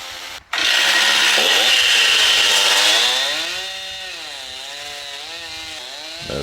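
A saw at a sawmill trims the sides of a log. After a brief thump, a loud, steady cutting roar runs for a few seconds, then drops into a lower, wavering engine drone.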